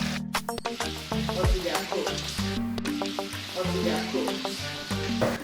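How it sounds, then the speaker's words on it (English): Plantains frying in a pan, a steady sizzle running throughout with occasional crackles, while music plays over the top. "now it's time to fry my plantain"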